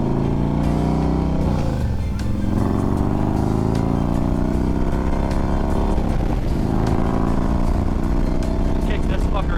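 Motorcycle engine running loud and close throughout, with revs rising and falling twice as it pulls through gear changes; wind rush and a voice talking over it.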